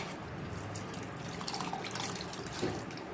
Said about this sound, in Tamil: மசாலா ஒரு வாட்டி கலந்து விட்டதும் தேவையான அளவுக்கு தண்ணி சேர்த்துக்கலாங்க